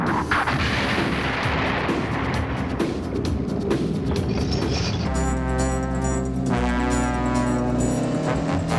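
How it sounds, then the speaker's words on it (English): Explosions in a G-Force cartoon come as a continuous, loud barrage of booming blasts and rumbling. Midway the sound shifts into a droning, tonal engine-like roar. "What can be causing those explosions?"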